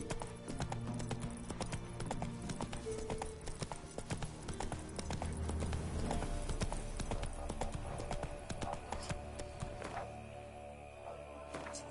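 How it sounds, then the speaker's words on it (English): A horse gallops in The Witcher 3, its hooves drumming in a steady, rapid clip-clop rhythm over game music and ambience, with a brief whinny possible, all at a moderate level. "Let's call my horse."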